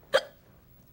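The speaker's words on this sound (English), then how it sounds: "Do you have the hiccups?" A single short, sharp hiccup, close and clear against a quiet background.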